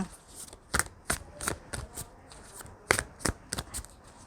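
Tarot cards are shuffled by hand in a quiet room, soft papery slaps and flicks landing in irregular clusters, close and gentle with no talking.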